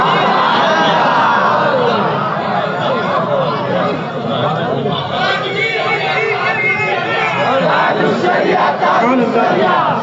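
A large crowd chants together in a loud, continuous roar of massed voices at a religious gathering in Nadiad, Gujarat, with rising and falling surges throughout.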